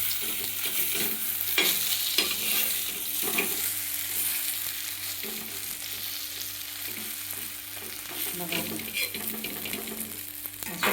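Besan tawa vadi fries on a hot griddle with a steady, close sizzle and crackle that runs unbroken throughout, with faint clicks of a spatula as it is turned.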